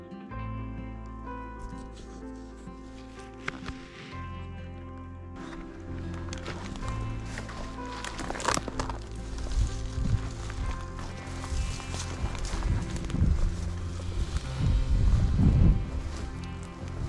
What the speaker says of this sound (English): You can hear a moose take off.